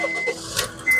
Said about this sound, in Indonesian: Sekarang kita coba start mobil.